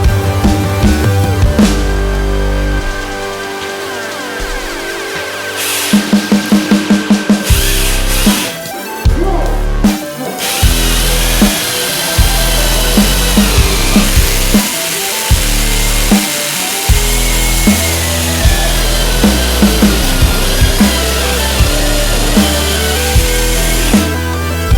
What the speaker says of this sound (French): le premier trou est percé